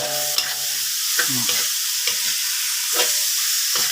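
Blanched green mussels are stir-fried with sauce in a hot pan for a Thai basil stir-fry, giving a steady close sizzling hiss broken by several scraping stirs, with no talk.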